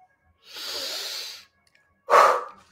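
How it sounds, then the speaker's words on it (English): A person draws a long, audible deep breath in through the nose and mouth, then releases a short, louder breath out, close and alone. "Take a deep breath in."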